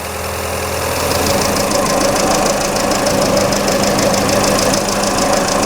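A freshly rebuilt engine hums steadily with a fast, rhythmic lifter ticking from the valvetrain layered on top as the oil warms, continuous and close.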